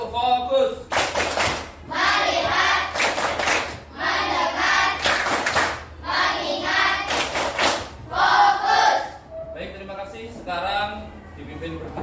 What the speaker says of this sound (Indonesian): Baik, tepuk fokus.